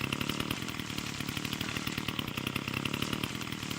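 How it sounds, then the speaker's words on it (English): A chainsaw runs loudly and steadily throughout while being used to cut a path on a farm, its engine drone continuous and close with no talking over it. "how do I turn the chainsaw off?"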